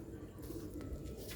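Pigeons in a coop cooing softly, a low murmuring coo close by and fairly faint, with light rustling around it.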